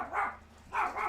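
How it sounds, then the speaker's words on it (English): A dog barks at a car pulling into a driveway, two bursts of muffled, fairly distant barking separated by a short pause, heard alone without talk. "That's my dog going ape shit because somebody has the audacity of driving into their driveway."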